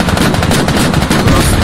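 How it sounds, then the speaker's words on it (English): Sustained automatic gunfire in the military shooter Squad, loud and close, with dense continuous bursts of rapid shots that do not let up. "He's shooting, he just shot the scout car."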